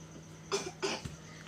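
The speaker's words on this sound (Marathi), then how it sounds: "खोकला झाला का?" A woman gives two quick, close coughs in succession, followed by a softer throat sound, in a quiet indoor room.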